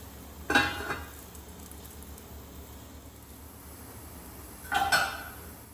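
Onions fry in oil in a covered pan on a stove, giving a steady muffled hiss, with two sharp metallic clanks of lid or utensil near the start and end.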